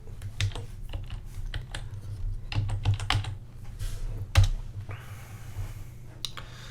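Rapid irregular keystrokes on a computer keyboard, close and fairly quiet, with a few harder clicks as a word is entered, over a low steady room hum.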